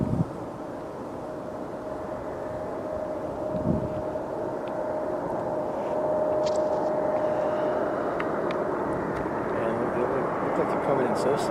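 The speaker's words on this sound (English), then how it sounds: "Here comes the Dreamliner." A Boeing 787 Dreamliner comes in slowly to land at Philadelphia airport, giving a steady, moderate jet rumble with a faint whine, while people talk nearby and wind buffets the microphone.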